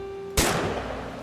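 A single loud gunshot fires in What Remains of Edith Finch, a sharp broadband crack that decays into a lingering echoing tail over a steady low background hum.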